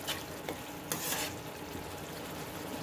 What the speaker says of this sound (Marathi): थोडं पाणी टाकून फिरवायचं.